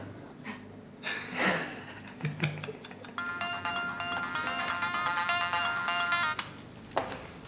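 An electronic phone ringtone plays a repeating melodic pattern for several seconds, preceded by some breathing and rustling; no talking.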